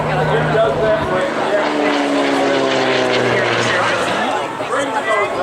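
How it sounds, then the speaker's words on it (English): An air show aircraft flies overhead with a strong engine drone that shifts in pitch as it passes, under steady talk from a nearby voice. "Air show aircraft."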